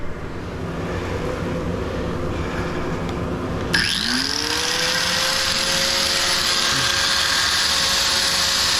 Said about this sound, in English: So let's get the old grinder, see what that'll do.